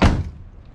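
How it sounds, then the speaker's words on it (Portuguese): The door of a Chevrolet Agile Montana pickup is shut with a single solid, close thud that decays quickly into quiet. "Fechar a porta."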